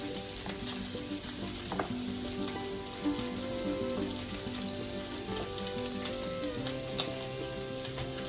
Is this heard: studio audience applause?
no